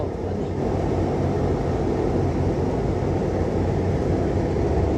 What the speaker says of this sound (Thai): รถไฟออกแล้ว